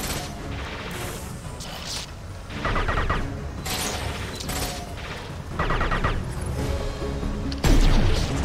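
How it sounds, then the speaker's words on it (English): Heavy gunfire and impact blasts from a sci-fi shooter game, dense bursts of shots and crashes layered with game effects and background voice chatter, loud and continuous with a sharper blast near the end. "Firing a high-impact shot!"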